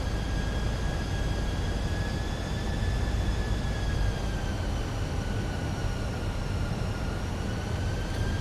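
A Fenix A320 airliner in Microsoft Flight Simulator drones steadily in flight, a loud continuous cabin rumble with a sustained high engine whine and no talk.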